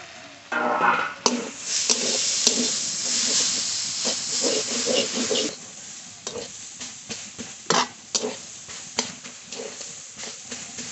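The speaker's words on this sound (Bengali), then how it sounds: "শাকের ঢাকনা তুলে শাক নেড়ে দেবো।" Greens simmering in a steaming, lidded pot are stirred. A continuous hiss of steam and sizzling runs under repeated scraping and clattering strokes that grow more frequent toward the end.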